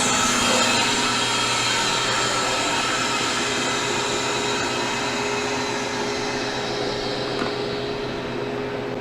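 A freeze dryer running with its drain valve opened gives off a steady, loud broadband whoosh and hum that holds unchanged throughout, with no voices.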